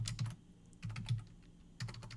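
Quick bursts of computer keyboard typing, close and fairly quiet, with short pauses between clusters of keystrokes and no talking.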